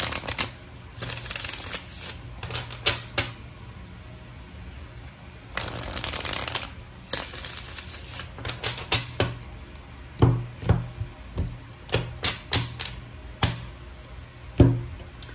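Tarot cards being shuffled up close: riffling bursts and sharp taps as the deck is squared, repeated several times in an uneven rhythm, no talking.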